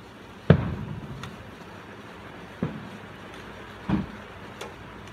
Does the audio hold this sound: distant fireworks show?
yes